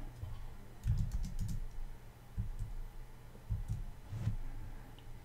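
Computer keyboard keys clatter while PHP code is typed, in short uneven bursts of quick, close taps separated by brief pauses, with no talking.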